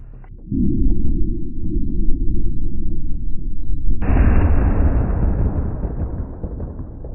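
A homemade Thai break-action shotgun firing a single slug: one loud, heavy blast that sustains with rumbling roar and rolling echo over several seconds, with no voices.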